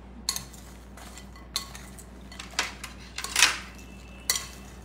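Food is mixed in a bowl with two spoons, giving a handful of sharp metallic clinks and scrapes spaced unevenly about a second apart, close by over a low steady hum, with no talking.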